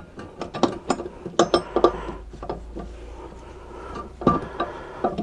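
A nut is worked off a cardan joint with a tool, producing a close series of irregular metallic clicks and ratcheting taps that cluster in bursts with short pauses between.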